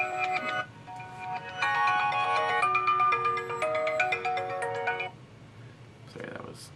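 Phone alarm reminder to take medication plays a bright, repeating ringtone melody of stepped electronic tones for about five seconds, loud and close, then cuts off and leaves a faint trailing blip.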